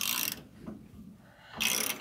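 A ratchet wrench turning an 18 mm shock bolt on a Ford F-150 makes two close, loud bursts of rapid clicking at the start and end of a short pause, with a faint clunk in between.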